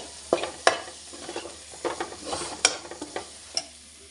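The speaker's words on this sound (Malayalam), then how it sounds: "ഫ്ലെയിം സിമ്മിൽ വെച്ചിട്ട് വേണം മസാല ഇട്ട് മൂപ്പിക്കാൻ" Masala for butter chicken frying on a low flame in a pan, a soft background sizzle broken by sharp scraping stir strokes and a few clinks of the spoon against the pan, close and moderately quiet, no talking.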